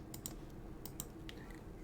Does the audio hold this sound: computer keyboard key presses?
yes